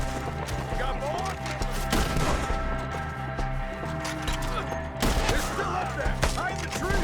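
Gunfire in Red Dead Redemption 2 during a forest shootout at enemies up in the trees: a dense, continuous crackle of shots with heavier bursts, while voices shout over the din.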